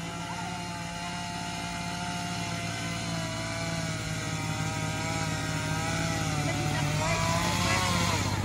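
A chainsaw runs steadily and loudly throughout, its engine drone holding constant with a hot chain that may be short of bar oil, with no break in the noise.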